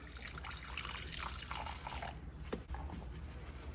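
Apple cider vinegar poured into a bowl of mayonnaise for coleslaw dressing, a soft close trickle and splash of liquid lasting a few seconds, ending with a small drip.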